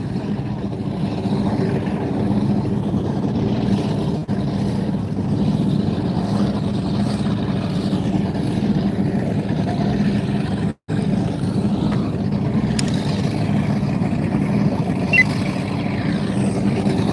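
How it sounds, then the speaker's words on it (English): A boat engine drones on Lake Michigan, a steady low rumble that holds loud and close for the whole stretch with little change, broken only by one brief dropout, and nobody talking over it. "Hear that boat?"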